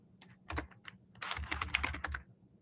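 Typing a command on a computer keyboard during a Linux logical volume management exercise: two quick bursts of close, crisp keystrokes, a short cluster and then a longer run of rapid clicks with no talking.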